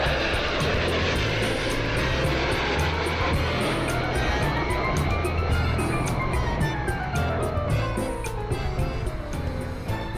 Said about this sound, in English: The MiG-29 has earned international praise as one of the world's most effective and safe combat fighters.